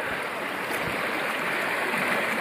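Swollen river running high near flooding beside a small bridge by slate stones, a steady broadband rush of fast water, close and continuous with no talk.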